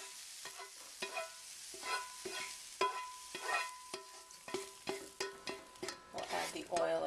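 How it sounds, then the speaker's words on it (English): Mushrooms frying in a pan with soy sauce and garlic, stirred in repeated close scrapes and clinks over a steady sizzle, the stirring strokes coming in an irregular rhythm. "soy sauce and then a teaspoon of garlic. Stir that around. Okay, the mushrooms are about done now"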